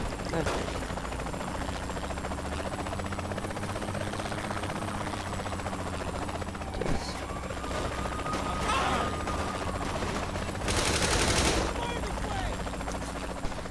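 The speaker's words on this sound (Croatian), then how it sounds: "Sad ih helikopter došao" A helicopter arrives during Saints Row: The Third gameplay, its steady mechanical drone running under bursts of gunfire and game effects, with a harsh noisy blast toward the end.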